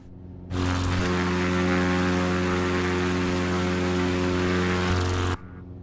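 Propeller airplane at full power during takeoff and climb, a loud steady engine drone with strong harmonic tones that holds for about five seconds and then cuts off sharply.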